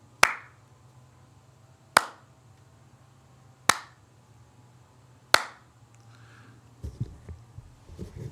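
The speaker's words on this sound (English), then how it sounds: "the dean clapped his hands together and just began to clap in a rhythmic way like this" A dean claps his hands in a slow, steady rhythm inside a church, four sharp, loud claps spaced about one and a half seconds apart, followed by faint scattered sounds from the congregation.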